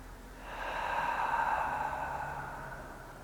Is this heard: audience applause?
no